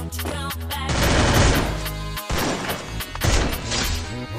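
Gunfire in a battle royale video game on a ranked full-map match, loud rapid bursts of automatic shots and crashing impacts close up, firing in dense clusters with a brief gap midway.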